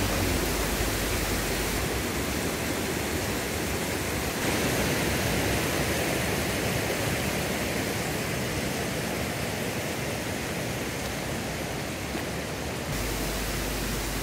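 A woodland stream at Kennall Vale in a Cornish valley rushes in a constant, dense broadband wash, loud and unbroken, with no voices.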